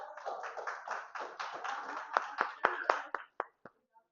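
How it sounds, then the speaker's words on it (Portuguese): A class in a Brazilian physics lesson claps for a student. Scattered clapping starts over a few voices, then thins into a handful of sharp separate claps that trail off near the end. "Palmas para Heitor"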